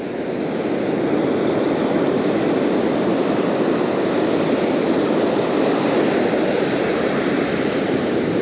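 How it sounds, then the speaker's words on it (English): Ocean surf at the Ventura jetties in California on an overcast day with small waves, a steady continuous wash of breaking water and rumble, with wind noise on the microphone and no talking. "Waves are not that high."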